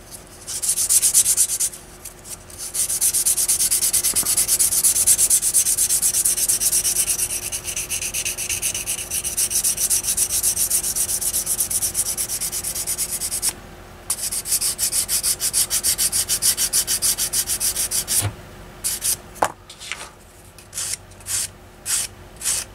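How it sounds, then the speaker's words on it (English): Sanding and buffing scratches out of a B-47 Stratojet model jet, a steady close rasping rub that runs for long stretches, with brief pauses and a few short strokes near the end. "Buff those scratches out."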